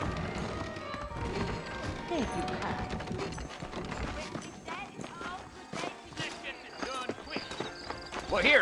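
Horse hooves clip-clopping in the Western video game Red Dead Redemption, a steady trot of hoofbeats under continuous game sound and a talking voice.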